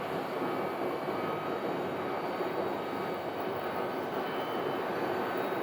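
A Boeing 737 Max 8 airliner at Sky Harbor airport gives off a steady, broadband engine roar that holds even and fairly distant for several seconds, with no voices over it.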